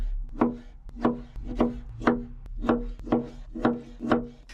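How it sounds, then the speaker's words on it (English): Spiny sow thistle being cut into bite-sized pieces with a knife on a wooden board: nine crisp, evenly paced chops, each a sharp close thud with a short crunchy tail, and no voices. "Cut the spiny sow thistle into bite-sized pieces."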